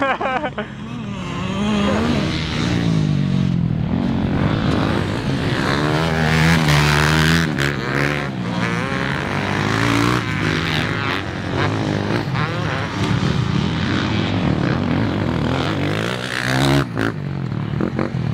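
A 2003 Yamaha YZ125 two-stroke dirt bike revs hard and continuously, its engine pitch rising and falling as it is ridden, loud and close throughout.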